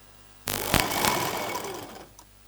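A sewing machine stitching stretched elastic onto palazzo pants, a short close whirring run of rapid needle strokes that starts abruptly and tapers off after about a second and a half.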